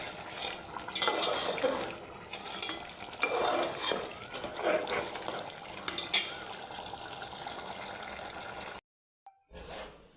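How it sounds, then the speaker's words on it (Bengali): Potatoes with turmeric are stirred and fried in a pan: a close, continuous sizzle broken by spatula scrapes and pan knocks, then it cuts to near silence at the end. "এখন আলুটা দিয়ে একটু কষিয়ে নিই"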